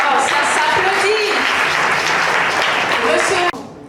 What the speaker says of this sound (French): Oh, ça s'applaudit.